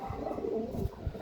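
Top-quality pigeons cooing close by: soft, low, throaty coos rolling in overlapping calls over a faint murmur of background noise.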